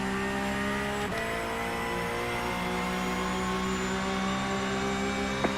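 Race car engine in the iRacing simulator holds a steady high-pitched whine, with a quick gear shift early on and sustained revs throughout, moderately loud and without talk.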